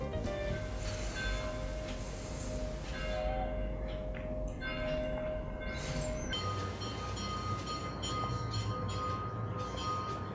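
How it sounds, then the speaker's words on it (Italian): Church bells ringing outdoors on an autumn day, a loud, continuous clanging peal with metallic overtones that fills the whole stretch, no voices over it. "Ovviamente le campane non possono che cominciare adesso a suonare."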